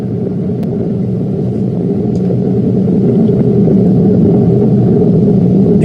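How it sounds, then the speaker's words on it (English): Deep, steady rumble of an Ariane 5 rocket launch carrying the James Webb Space Telescope, a continuous low roar that swells slightly and sounds distant, with no speech. "The rumble of the powerful Ariane 5 now being felt here in the control center."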